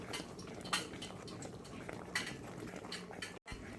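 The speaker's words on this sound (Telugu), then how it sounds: "ఈ పిండి గుడుగుడు సౌండ్ విన్నారా?" A thick Mysore pak paste of flour and ghee bubbles steadily as it cooks, giving a close, continuous gurgling simmer with occasional sharper pops.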